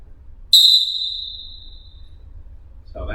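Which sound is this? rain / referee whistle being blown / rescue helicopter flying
referee whistle being blown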